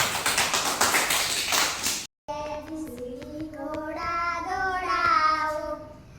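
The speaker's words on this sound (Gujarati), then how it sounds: "તાળીઓ પાડવા બધા" Children in a village school classroom clap their hands in a quick, close burst for about two seconds, followed after a short gap by young voices singing together.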